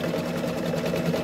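An embroidery machine stitches a dense fill in alternating directions over underlay. It gives a steady, fast, rhythmic mechanical whir that stays close and even throughout the brief moment, with no voices.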